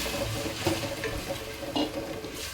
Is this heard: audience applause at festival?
no